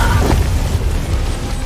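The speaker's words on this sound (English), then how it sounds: "Butt mortars in the air. Watch out, they are gonna land." Mortar shells exploding as they land in Helldivers 2: a loud, dense, rumbling boom that fills the short moment and rolls on without a break.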